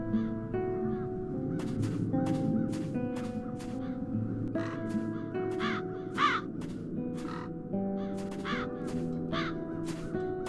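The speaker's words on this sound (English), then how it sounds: "The crows haven't left anything of the town's banner." Crows in the video game The Dark Eye: Chains of Satinav, repeated harsh caws in irregular bursts over a low sustained musical backdrop, fairly close and clear, no speech.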